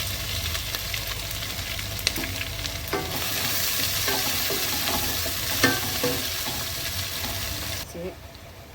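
Chana dal tempering for potato poori masala fries in a pan with onion and green chilies, a continuous near sizzle with a few stirring scrapes and clinks, and a brief voice partway through.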